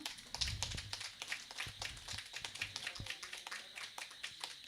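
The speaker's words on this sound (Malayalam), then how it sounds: "നല്ലൊരു കയ്യടി കൊടുക്കാം" An audience claps for a Navaratri dance performance by a group at a charitable trust's festival, with scattered, uneven handclaps that go on steadily at a modest distance.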